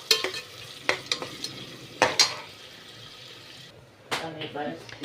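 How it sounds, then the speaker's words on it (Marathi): Onions fry with cloves and whole spices in hot oil for chicken biryani, a steady sizzle broken by several sharp scraping stirs of a spoon against the pan, close and loud, with a short quieter gap before stirring resumes. "आता कांदा टाकून ते आपण चांगलं परतून घेऊया"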